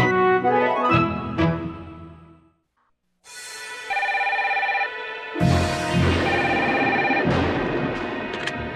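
A telephone rings in a Magic School Bus cartoon, with loud bursts of repeated ringing tones. A brief silent gap falls midway, then the ringing resumes more strongly. No one speaks.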